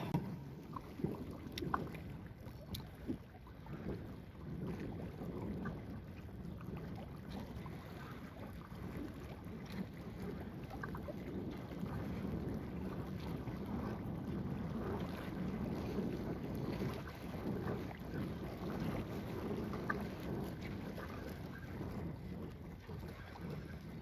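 Wind buffets a small fishing boat out on the water, a steady low rushing roar of gusts against the microphone, faint and continuous with occasional knocks.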